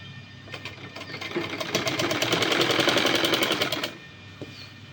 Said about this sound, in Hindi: इसके किनारे किनारे पर सिलाई लगानी है और इसको इस तरह अंदर की साइड फोल्ड करते हुए सिलाई लेकर जाएंगे